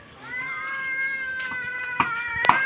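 A cat meows in a long, drawn-out wavering cry that stays close and fairly loud for nearly three seconds, with a few small clicks and knocks near the end and no talk.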